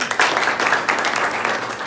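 A tenth-grade class of government high school students applauds, a short dense burst of many hands clapping together at close range that fades out within two seconds.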